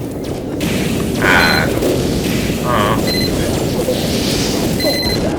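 Rocket launcher explosions from the Soldier in the video game Team Fortress 2, deep booming blasts rising over a busy, continuous battle din with mechanical clatter and brief tonal game effects.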